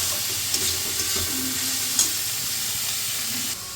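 Onions with salt being stirred in a hot pan for black pepper chicken, a steady bright sizzle with scraping stir strokes and small pops, cutting off slightly just before the end.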